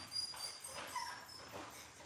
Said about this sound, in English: Solo's a real nice dog